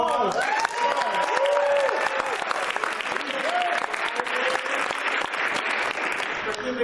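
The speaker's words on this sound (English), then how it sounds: "can we please give DJ Nikki Nice a round of applause?" Sustained, dense clapping from an audience at an MLK Day gathering honoring a DJ, loud and steady throughout, with a few scattered voices and whoops rising above the applause.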